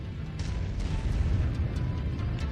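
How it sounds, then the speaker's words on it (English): A low, sustained rumbling roar of explosions in the MechWarrior 5 mech combat game, with scattered crackling bursts throughout, loud and steady without clear separate blasts. "explosion."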